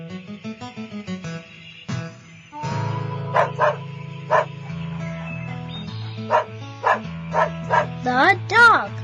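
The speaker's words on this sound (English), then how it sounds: "The dog." Short dog barks ring out repeatedly, evenly spaced, over a musical backing, with a spoken voice near the start.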